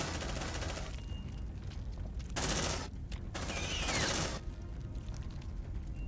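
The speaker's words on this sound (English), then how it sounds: "Okay, get that turret set up. Deploying sentry gun." Sentry gun firing in the video game Aliens: Dark Descent: two loud bursts of rapid automatic gunfire, each about a second long, separated by a brief pause, over a steady low background hum with no talking.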